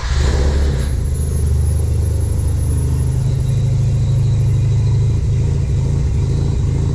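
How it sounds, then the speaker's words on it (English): Mazda RX7 rotary engine running close by, a loud buzzing idle that rises into revs with a steady raspy drone throughout and no voices. "Let's see if she makes some rotary noises."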